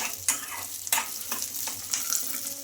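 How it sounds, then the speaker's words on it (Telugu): Green chillies, peanuts and dal fry in oil with a soft, steady sizzle, punctuated by four or five sharp spatula scrapes and clinks as they are stirred, close and without talk. "ఇప్పుడు కొంచెం ఆయిల్ అయితే వేసుకోవాలి ఇంకా ఈ ఆయిల్ కూడా వేసేసుకొని ఇవన్నీ బాగా ఫ్రై అవ్వాలి మిర్చి పప్పులు అవన్నీ"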